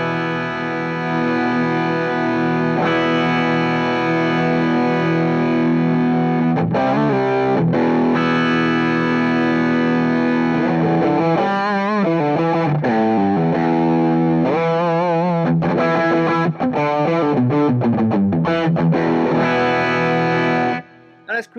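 Electric guitar driven hard through a Wampler Moxie overdrive pedal with the gain turned way up, playing sustained distorted chords and then bending, vibrato-laden lead lines, loud and continuous with no talking.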